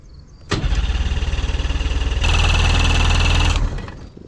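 Outboard engine on a pontoon boat, started with the choke on, catching with a loud burst and then chugging in a fast uneven pulse that smooths into a steadier, louder run before cutting off.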